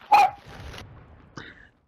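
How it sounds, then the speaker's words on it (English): A dog barks sharply once at close range during a Call of Duty MW2 Warzone session, then yips briefly a second later, and a quiet background fills the gap between the two sounds. "your dog barking makes my eyes cringe"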